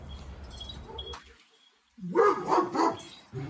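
Dogs bark and yip close by, go briefly quiet, then break into a louder burst of barking.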